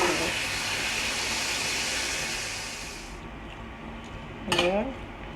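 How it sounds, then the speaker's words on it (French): Cooked courgettes being scraped out of a pan for a ratatouille, with steady hiss and clatter of utensil on metal, quieting midway before a sharp ringing clang of pan and spoon near the end. "Là je vais débarrasser mes courgettes."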